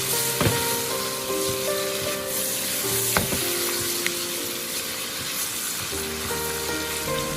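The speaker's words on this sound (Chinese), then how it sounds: "这个时候开大火，快速的翻炒均匀，这样做出来的莲藕特别的清脆" Lotus root stir-fried over high heat in a wok, a steady loud sizzle and crackle running throughout, with occasional sharp clinks of the spatula against the pan.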